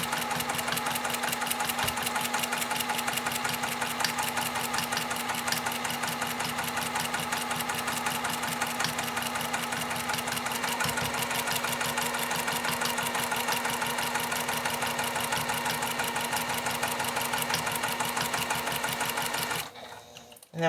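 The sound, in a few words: sewing machine with walking foot stitching a quilt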